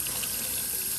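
Tap water runs in a steady, close stream over peppers being washed in a sink, with a full splashing rush that lasts the whole moment without pause.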